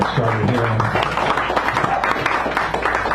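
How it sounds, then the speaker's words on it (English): An audience at a poetry reading in a San Francisco café claps and applauds in a dense, steady patter that holds throughout, with some voices mixed in. "Give her a nice round of applause right now before we get started here."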